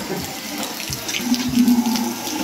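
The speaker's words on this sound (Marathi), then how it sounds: "हे बघा सगळेजण पाणी भरतायत" Water running and splashing into containers as people fill them during the first heavy rain of the season in Konkan, a steady near flow with gurgling swells.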